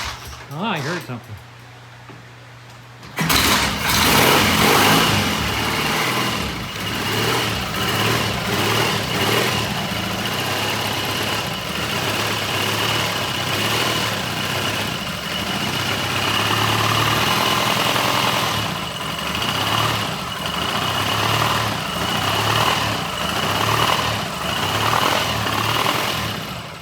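A 1978 Triumph T140 motorcycle in a workshop fires up after a quiet moment, then settles into a loud, steady, rough idle that continues throughout, with people talking over it.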